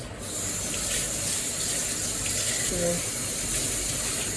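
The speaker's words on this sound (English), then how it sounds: "Washing my hands." A kitchen tap runs steadily as hands are washed beneath it, a constant close splash and hiss with a brief thin tone near the end.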